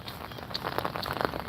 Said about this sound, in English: it's raining and I'm walking in the rain